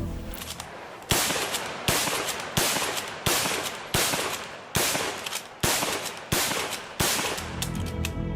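A bolt-action rifle with a 60-degree bolt rotation fires about nine loud, sharp shots at a steady pace of roughly one per second, each crack echoing briefly before the next.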